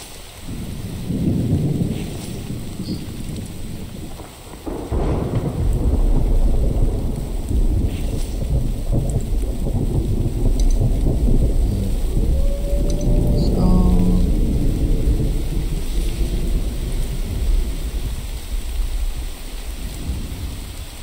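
Heavy rain pours steadily in the survival video game The Infected, with rumbling thunder and a dense wash of raindrops hitting surfaces, loud and continuous throughout, and a voice speaking briefly underneath.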